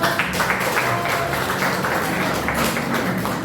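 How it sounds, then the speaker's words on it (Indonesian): A classroom audience gives a steady, dense round of applause for a student group after its presentation, the clapping filling the room evenly from start to end. "berikan aplaus"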